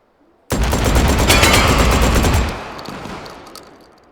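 The Scalpel-LE gun in Hot Dogs, Horseshoes and Hand Grenades fires one loud, close, rapid burst lasting about two seconds, followed by a fading echoing tail.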